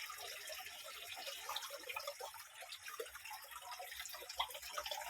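Water flowing from a spring source where drinking water is being fetched, a continuous faint trickle and splash with small dripping details, steady and unbroken throughout.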